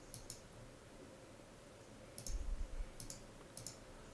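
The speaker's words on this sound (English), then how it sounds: "we click on 5 to start" A few sharp, faint computer clicks spaced apart to start a game, isolated ticks over a low background hiss with a brief muffled thump in between.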